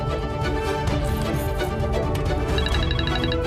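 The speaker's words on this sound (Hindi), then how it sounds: "ये फोन किसका बज रहा है?" A phone rings with a melodic tone over a background music score, the repeating high notes of the ringtone coming through clearly near the end of the passage.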